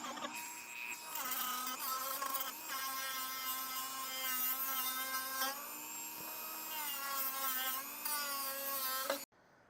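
A rotary tool with a fine 80-grit sanding tip cuts an opening in a Harley Softail headlight housing, a continuous high-pitched whine that rises and dips as pressure changes, close and loud, stopping abruptly at the end.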